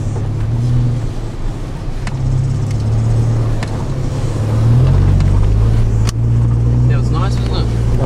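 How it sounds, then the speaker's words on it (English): Four-wheel drive vehicles rumble on a coastal seal safari, a loud steady engine drone with wind and road noise close by, people talking over it. "the rumbling of four-wheel drives behind us"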